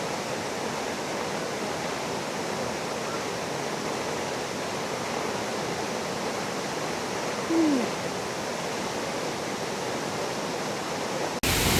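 Waterfall about ten meters high at Coban Lanang in Batu, a steady broadband rush of falling water heard close and continuous, with a brief faint bird-like call partway through.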